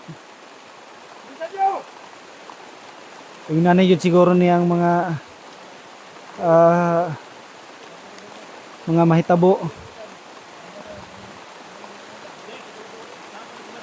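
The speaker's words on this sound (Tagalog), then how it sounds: "So ningkusog na pud ng tubig ang ulan, ningkusog na pud." Heavy rain and running water make a constant broadband wash, with a person's speech breaking through in several short bursts.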